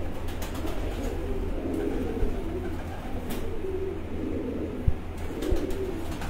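Lal Pari pigeons coo softly in a low, repeated burbling on a rooftop loft, with faint clicks and a light background hum, no voices.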